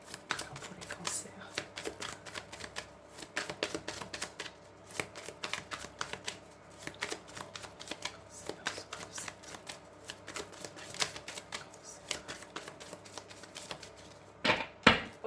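Witches' tarot deck shuffled by hand in a quiet room, dense riffling card clatter running steadily for the whole stretch, with a louder burst of shuffling near the end.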